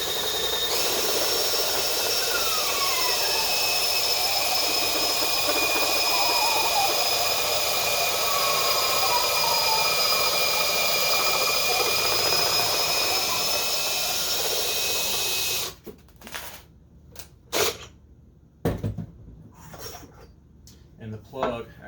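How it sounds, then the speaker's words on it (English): A homemade drill bit bores into a foam wing core for an RC plane, giving a loud, steady whine for about fifteen seconds that then stops, followed by scattered handling knocks while someone talks. "we'll drill a hole, and I've got a mark here with a Sharpie on the homemade drill bit that tells me how far I've gone into the core"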